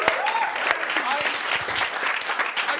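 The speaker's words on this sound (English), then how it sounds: "Can I have a round of applause for my squire" Audience applause breaks out at a live comedy stage show, steady clapping that runs throughout with voices talking over it.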